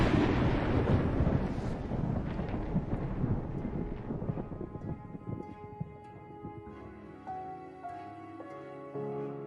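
Thunder sound effect in a school story performance, a loud rumbling crash that rolls and slowly fades, with a faint tonal tail of music emerging toward the end.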